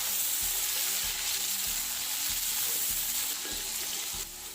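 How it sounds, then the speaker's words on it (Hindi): Chopped tomatoes and green chillies sizzle steadily in a pan of oil with onions, the frying hiss constant and close, broken by soft scraping knocks of stirring every second or so, with no talk. "इसको भी 2 मिनट के लिए फ्राई करेंगे।"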